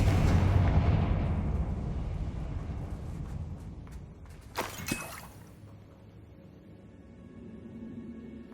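A Confringo spell explosion in the game Hogwarts Legacy: a big rumbling blast that decays over several seconds, then a couple of sharp cracks and a fading crackle.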